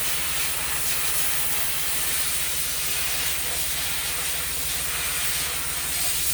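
Steam hissing steadily from a tea kettle used to set twist in yarn. The hiss is loud and continuous, over a low droning hum, with no voices.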